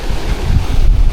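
Strong gusting wind buffets the microphone on the Swan River shore in Perth, a loud, low rumbling roar throughout.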